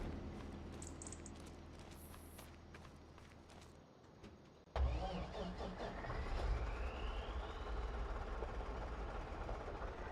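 A truck engine in Farming Simulator 25 turning over and catching with a sudden low rumble, then idling and revving steadily, after a quieter stretch of clicks and background hum.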